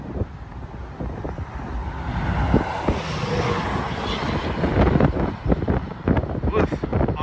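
Fierce wind batters the microphone on the Coos Bay Bridge, a loud churning roar that swells and thumps in gusts, with faint traffic rumble underneath.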